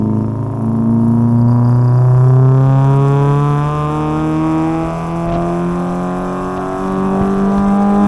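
A Ford Figo with a new muffler pulls hard in second gear, its engine revving steadily upward toward the 5,000–6,000 rpm range in one long, loud, smooth climb with no one speaking.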